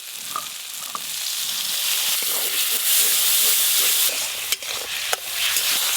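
Spices for a pumpkin-leaf dish hiss and sizzle loudly in a pan as a little water is added, a dense steady steamy crackle with a few sharp clinks from a stirring utensil.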